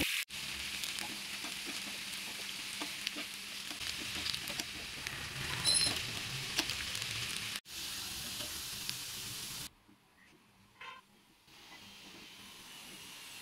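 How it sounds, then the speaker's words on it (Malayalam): Marinated fish pieces for fish pickle frying in hot oil give a dense, continuous sizzle and hiss, briefly cut off midway, then quieter, patchier crackling toward the end. "എണ്ണ നന്നായി ചൂടാകുമ്പോൾ അതിലേക്ക് നമ്മൾ മാരിനേറ്റ് ചെയ്ത് വെച്ചിരിക്കുന്ന മീൻ കഷ്ണങ്ങളിട്ട് നന്നായി ഫ്രൈ ചെയ്തെടുക്കുക"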